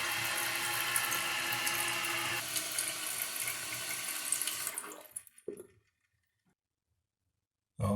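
A toilet flushes and its tank refills after a flapper replacement: a loud, close, rushing wash of water lasts about five seconds, then cuts off into near silence with a few faint drips and clicks.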